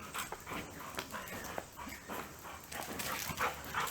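Several dogs whimper, whine and bark close by in a restless, uneven stream of yips and short barks, with no one talking.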